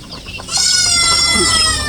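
A goat bleats in a rural provincial farmyard with chickens nearby. After a short stretch of quieter farm noise, a loud, sustained, wavering bleat carries on to the end.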